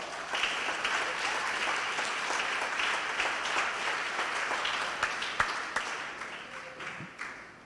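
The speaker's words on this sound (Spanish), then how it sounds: "Dale un fuerte aplauso." A church congregation applauds in a sustained, fairly distant wash of clapping that fades slightly toward the end, with a few sharper individual claps standing out.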